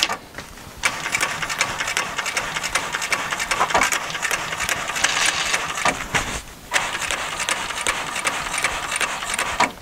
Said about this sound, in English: So I'm going to top stitch this panel now.